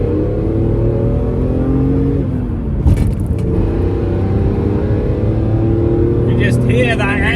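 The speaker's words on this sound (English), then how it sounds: "You just hear that engine, it's wonderful." A BMW Z4 M Coupe engine runs close by with a sustained, tonal mechanical drone that swells and shifts pitch as it revs, broken by a brief clunk midway.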